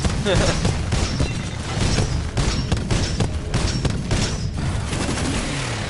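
Rockets firing and bursting in a Titanfall-style shooter on the Colony map, a loud, dense barrage of booms and gunfire with rapid overlapping blasts and a voice speaking over the chaos.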